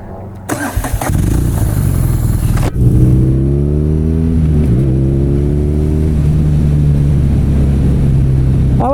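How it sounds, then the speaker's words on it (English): A BMW R nineT's air- and oil-cooled twin motorcycle engine cranks over briefly, catches and fires up loud and close, then settles into a steady, throbbing idle with small blips of throttle. "I like an air-cooled twin"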